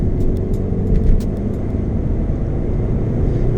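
Vauxhall Astra driving on the road, heard from inside as a steady low engine and road rumble, loud and constant, with faint higher rattles near the start.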